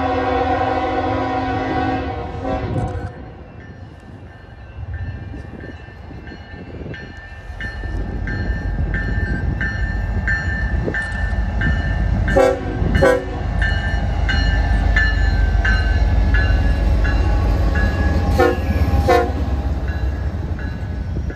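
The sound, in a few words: Union Pacific eastbound intermodal freight train passing, sounding horn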